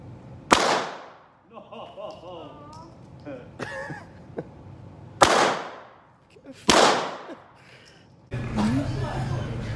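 An Uzi submachine gun fires in sharp, loud, isolated reports at a shooting range in Slovakia, spaced a few seconds apart, with people talking and laughing between shots.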